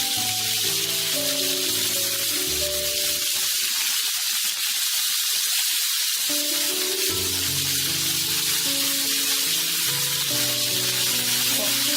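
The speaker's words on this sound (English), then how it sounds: "put butter and oil and frying it shallow" Marinated chicken shallow frying in butter and oil, a steady close sizzle with crackling spatter that briefly drops away midway, then resumes just as strongly.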